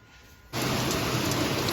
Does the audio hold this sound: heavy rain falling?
yes